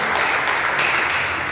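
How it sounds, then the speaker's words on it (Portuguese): Church congregation applauding during a sermon, a brief, even wash of many hands clapping at moderate volume with no voices over it. "Pode aplaudir você."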